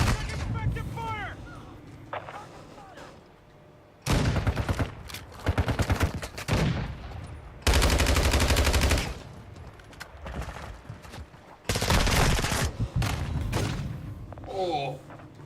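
Automatic rifle fire in a Call of Duty multiplayer match, loud bursts and sustained volleys breaking in and out between quieter stretches, with in-game radio voices calling out alerts.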